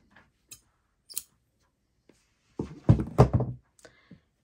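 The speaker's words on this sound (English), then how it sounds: "And you're going to cut your yarn." Scissors cut through crochet yarn after a baby bootie is finished: a few faint snips early on, then a louder cluster of crisp cuts and clicks in the middle, heard close up with no talking.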